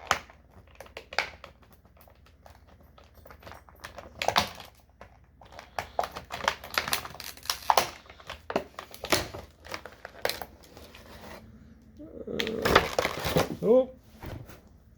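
Cutting open the plastic packaging of a McFarlane DC Multiverse action figure: scattered snips, crinkles and rustles of plastic and cardboard under a voice talking, with a denser burst of crumpling near the end.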